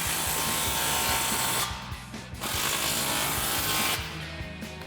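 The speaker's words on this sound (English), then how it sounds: "we're gonna grab our impact and 15mm socket and tighten those down" An impact wrench with a 15mm socket tightens muffler clamps on a 2024 Toyota Tacoma Magnaflow Overland Series exhaust, a loud, close, buzzing whir in two sustained bursts separated by a short dip.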